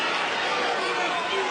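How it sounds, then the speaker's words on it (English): A boxing arena crowd chants "Mickey" during a fight, a dense wash of many voices blending into a steady roar throughout, with no single voice standing out. "And what you're hearing is the crowd, Mickey, Mickey, Mickey."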